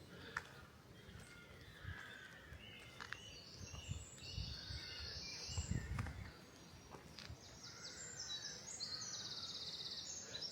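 Loud wren song rings out along Undercliff Drive on the Isle of Wight: rapid, high trilling phrases repeated through the stretch, with other birds and footsteps in the background.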